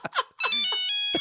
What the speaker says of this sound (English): I think Brett's wife is calling him right now.